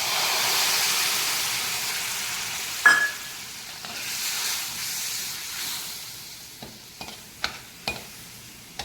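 Tamarind juice poured into chili powder frying in a pan for tomato dal sets off a loud hiss that rises sharply and then settles into a bubbling sizzle, with a few utensil taps toward the end.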